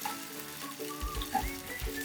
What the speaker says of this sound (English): we want the vegetables to cook down with the onion to be translucent, right to the point where it starts to brown